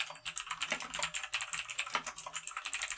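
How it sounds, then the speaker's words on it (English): Fingers type quickly on a computer keyboard in a steady, unbroken patter of key clicks, close and fairly quiet, with no voice. "See, I'm not fake typing."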